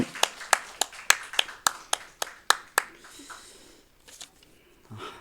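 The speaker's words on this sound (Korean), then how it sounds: "우리 하나님께 영광의 박수 올려드리겠습니다." Congregation at a Korean Sunday morning worship service claps in sharp unison, about eleven crisp rhythmic beats in quick succession, then the clapping stops and the room falls to a quiet murmur.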